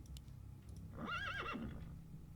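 A horse whinnies in a Warcraft-style video game: one clear, wavering neigh of about half a second rising above a steady low game backdrop, with no talking.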